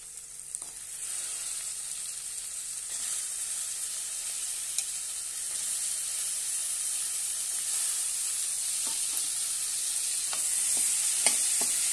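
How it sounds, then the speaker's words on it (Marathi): Masala for a Maharashtrian pea and potato curry (matar batata rassa) sizzles steadily in a pan with a continuous bright hiss, broken by occasional light scrapes and clicks of stirring. No voices. "परतून घेऊया आणि थोडा वेळ हा मसाला शिजवून घेऊया"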